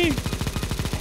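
Automatic gunfire in CS:GO, a rapid, evenly spaced burst of about a dozen close, punchy shots, with a short voice cry at the start.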